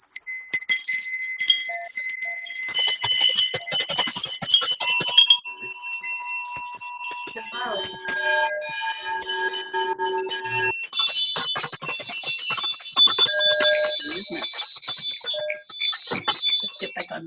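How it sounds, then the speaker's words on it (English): Many handbells rung together by a congregation over a video call, a dense, overlapping jangle of bright metallic tones lasting throughout with scattered individual strikes. "we can unmute everybody to ring our bells"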